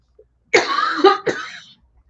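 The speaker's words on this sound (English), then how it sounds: "I'm gonna cough." A person gives a harsh, loud cough close to the microphone, followed by a second shorter cough, then quiet.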